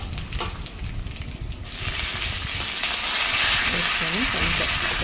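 Chillies, garlic, ginger, coriander, mint and curry leaves frying in a pan for peanut chutney, a soft steady sizzle that swells louder after the first couple of seconds, with faint clinks near the start.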